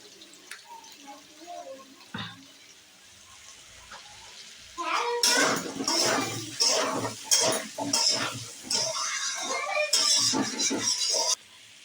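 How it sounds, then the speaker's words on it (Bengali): Water is poured into a cooking pan of spiced potato curry with turmeric and cumin, a sustained splashing and sizzling rush after a quieter stretch of utensil clinks, close and moderately loud while a voice speaks over it. "এবার আমি জল দিয়ে দিচ্ছি।"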